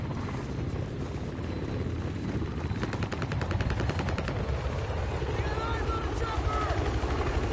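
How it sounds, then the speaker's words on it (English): In a Battlefield 4 match, a helicopter's rotor drone rumbles steadily overhead while gunfire crackles in bursts, with players talking throughout. "Chopper right above us."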